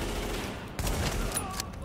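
Sniper fire rings out in Tom Clancy's The Division, a couple of sharp cracks over a busy, noisy combat backdrop in a short burst of shooting.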